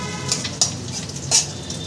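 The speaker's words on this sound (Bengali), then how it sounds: "ফোড়নটা আমি 2 সেকেন্ড ভেজে নেব।" Dry chilli, radhuni and black cumin tempering frying in hot oil, a close, steady crackling sizzle with a few sharp pops over about two seconds, with no voices.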